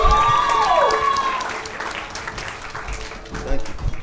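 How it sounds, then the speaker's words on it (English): Crowd applause fills a cultural festival space, loud at first and slowly thinning out, with a voice and some ringing tones over the top before a late swell of cheering. "Please give yourselves a big round of applause."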